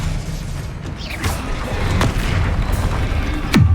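Confringo fire spell blasts in Hogwarts Legacy gameplay, several sharp booming impacts with whooshing streaks over a dense rumbling battle background, the loudest crack near the end.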